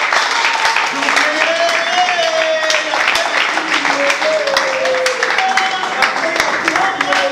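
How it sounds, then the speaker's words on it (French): An assembly audience claps after an association election, with scattered distinct hand claps running through the clip while a voice keeps speaking over them. "Je vous prie d'applaudir très très fort"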